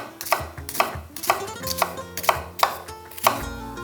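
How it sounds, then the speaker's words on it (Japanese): A knife chops an onion on a cutting board in a steady rhythm of about eight crisp, close knocks, each chop ringing briefly against the board. "玉ねぎは半分に切り込みを入れていきます"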